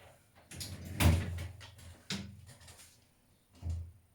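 A shower enclosure door is fitted into place in a bathroom, giving a few close knocks and a sliding scrape, with quieter handling noises between them.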